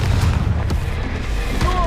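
A Confringo blasting spell explodes in Hogwarts Legacy, a dense, continuous rumble of booming bursts with sharp cracks at intervals, loud and close across the whole moment.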